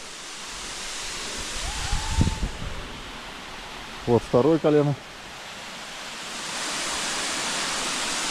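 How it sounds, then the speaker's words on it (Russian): Steady broadband roar of a waterfall in an autumn mountain gorge at Matlas, constant throughout, with someone speaking briefly over it midway. "Очень красивый водопад."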